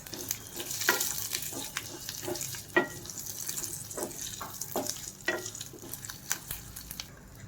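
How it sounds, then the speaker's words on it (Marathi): Ginger and garlic sauté in a pan for misal, a soft continuous sizzle broken by repeated scraping and stirring strokes of a spatula at an irregular rhythm, close up with no voices. "आता यामध्येच मी आल आणि लसूण टाकून घेत आहे हे आपलं छान परतायचं आहे"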